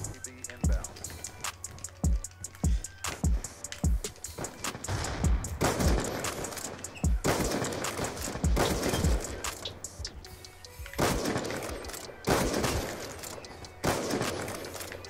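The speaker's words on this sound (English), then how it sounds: "where the heck are these shots coming from?" Gunshots in Call of Duty Black Ops 2 video game, scattered sharp cracks and short bursts, some loud and near, others fainter, spread across about fifteen seconds with irregular gaps and background game noise.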